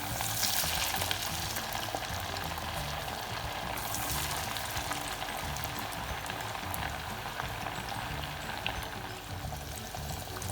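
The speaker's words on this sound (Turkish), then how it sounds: "Güzelce kızarana kadar altın sarısı olana kadar kızartıyorum." Steady crackling sizzle of meatballs frying in hot oil until golden, continuous and close, with no voices.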